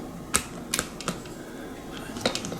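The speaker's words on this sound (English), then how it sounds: "I'm going to take out these two screws on the bottom of the handle" Screws come out from the bottom of an American Flyer suitcase handle. Four or five sharp, close clicks and ticks from the screwdriver and metal sound at irregular intervals over a quiet room background.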